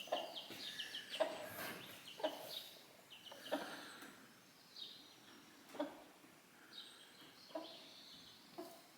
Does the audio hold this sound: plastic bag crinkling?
no